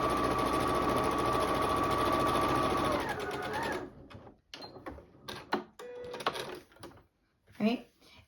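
A sewing machine stitching quilt seams, a steady humming run of rapid stitches for about three seconds, then stopping and giving way to clicks, fabric handling and a few sharp clatters.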